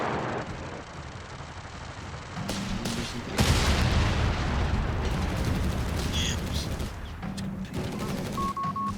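Bomb blast in Company of Heroes 3 on a battlefield: a broad, rumbling boom rises sharply and lingers within a dense wash of distant gunfire and battle noise.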